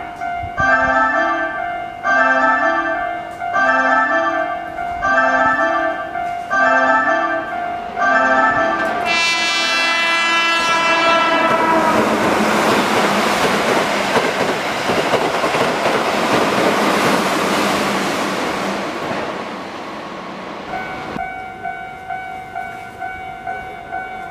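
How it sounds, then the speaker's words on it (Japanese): A repeating electronic chime plays at first, then a Keihan 8000 series express train roars past loudly for several seconds at Kozenji station in Japan, rumbling and clattering, before the chime resumes with a warning announcement. "電車が通過しますご注意ください"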